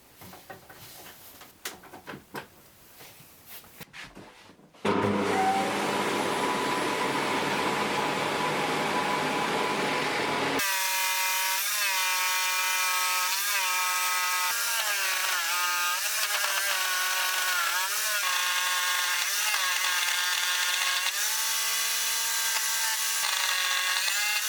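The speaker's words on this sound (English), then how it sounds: "To make the final cut along here, I'll use the jigsaw to get pretty close to the line" A jigsaw cuts through a wooden board for a modular synthesizer stand, a loud, steady buzzing rasp that runs continuously for about twenty seconds after some quieter handling noises at the start.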